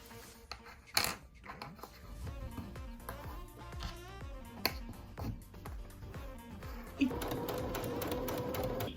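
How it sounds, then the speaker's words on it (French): A sewing machine stitches small 1 cm hems along both edges of Tatami fabric, running in short bursts with clicks and pauses, then a steadier louder run near the end. "je vais commencer par faire des petits ourlets d'1 cm de chaque côté"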